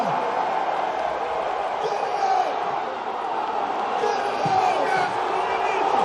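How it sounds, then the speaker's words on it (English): A strongman competition crowd at the Arnold Classic urges on a deadlift attempt with a steady roar of cheering and shouts, moderately loud and continuous, while a commentator talks over it. "The crowd trying to help out Brian Shaw"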